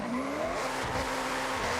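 A car in the Forza Horizon racing game, engine droning steadily while tires squeal continuously through a skid, loud and close with no talking.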